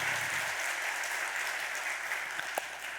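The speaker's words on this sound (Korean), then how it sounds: "박수" A church congregation applauds during a Sunday worship service, giving steady, dense clapping from many hands throughout with a roomy, moderately distant sound.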